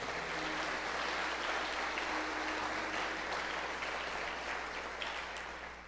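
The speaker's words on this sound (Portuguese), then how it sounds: "dá um glória a Deus e aplauda ao Senhor aí no seu lugar" A church congregation applauds in praise to God, a broad, continuous wash of clapping from many hands that holds steady and eases off slightly toward the end.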